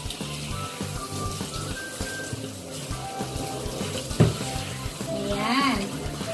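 Water running steadily from a tap while a French bulldog is bathed, a continuous close splashing stream with a brief sharper splash partway through and no clear talking.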